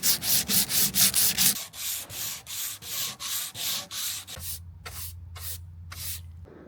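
Steady back-and-forth sanding strokes, close and loud, each stroke a rough scratchy whoosh in an even rhythm, with a low hum joining near the end.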